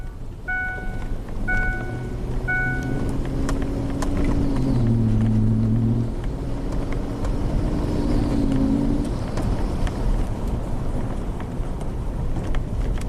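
A Ford F150 engine with a low-power fault hums and revs under acceleration, its pitch rising and sagging, heard from inside the cab over wind noise and a few chiming beeps near the start.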